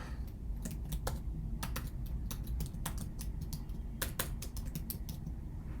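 Close, quick keystrokes on a computer keyboard as a short password and hint are typed, irregular bursts of light clicks with brief pauses over a quiet background, no voice.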